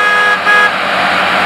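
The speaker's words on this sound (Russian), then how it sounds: "Предупреждающий сигнал для людей, которые находятся наверху." A Grimme EVO 290 potato harvester sounds its warning horn in the field: one loud, steady, sustained tone holding for the whole short burst over a low engine drone.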